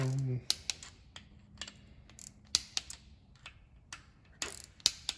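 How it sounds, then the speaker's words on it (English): Camshaft being turned by hand in a 1.9 TDI PD racing cylinder head, giving a series of sharp, irregular metallic clicks and ticks, close and fairly quiet, with a brief low hum at the start. "I always turn the camshaft few times"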